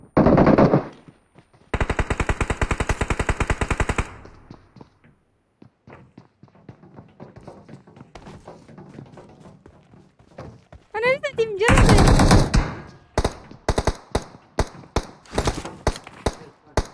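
Gunfight in the video game PUBG Mobile: loud bursts of rapid automatic gunfire, a pause with faint footsteps and movement, then a long burst followed by several single shots in quick succession, with talk in between.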